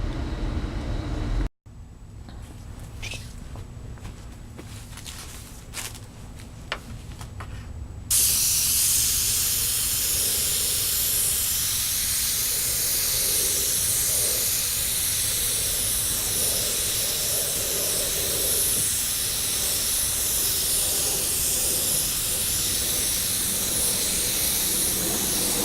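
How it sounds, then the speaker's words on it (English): Iwata airbrush spraying touch-up paint onto a motorcycle wheel: short hissing bursts at first, then a long continuous, loud, close spray hiss that runs to the end, with no talk. "for this job, we're going to be using the Iwata airbrush that we've used for many, many jobs"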